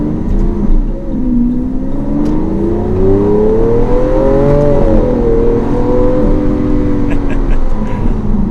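A Lamborghini Aventador LP700-4 Pirelli Edition with a V12 accelerates, heard loud from the cabin. The engine note climbs smoothly through the gears, eases briefly, then keeps building, and a voice speaks over the drone.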